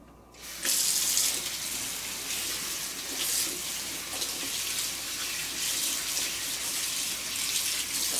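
Water runs steadily from a tap into a sink during handwashing with a honey and Himalayan pink salt soap, a continuous close hiss starting abruptly and lasting several seconds.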